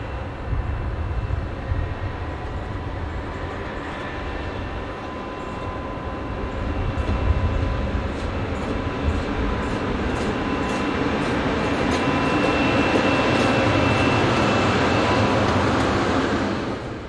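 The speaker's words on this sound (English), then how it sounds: "Number 3014 heads a commuter service from Luxembourg City." Locomotive number 3014 hauls a commuter train out of Luxembourg City, a steady rolling rumble with a faint high whine that builds gradually louder over its length, heard alone with no voices.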